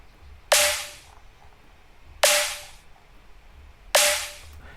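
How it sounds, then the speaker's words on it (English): Three dubstep drum hits programmed in FL Studio, each a sharp noisy crack with a short tonal body and hissy tail, evenly spaced about two seconds apart, loud against near silence. "So I used kick, then I used snare."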